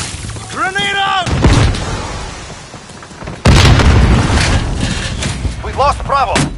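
Call of Duty Modern Warfare grenade blasts land as heavy booming explosions, one early and a louder one midway, mixed with game radio voices and chatter calling out positions.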